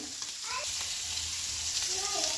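Fish frying in a pan over village cooking heat, a steady close sizzle hissing throughout with no pauses.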